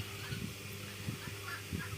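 Tithi chickens, a kind of turkey, give short low gobbling calls, several quick bursts close by and fairly faint over a steady background hum.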